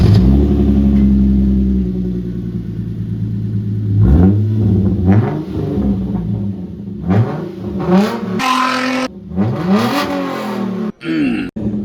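A Hyundai Genesis Coupe engine with a straight-pipe exhaust revs hard again and again, the loud raspy exhaust rising and falling in repeated bursts, close by and aggressive.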